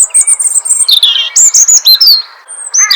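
Bright, high bird chirps and tweets repeat in quick succession, each short call following the last with a few sliding whistled notes near the end, clear and close with no other sound.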